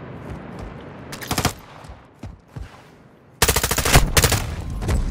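Rapid automatic gunfire from Modern Warfare 2, a short burst followed by a few scattered shots, then a longer sustained volley, loud and close.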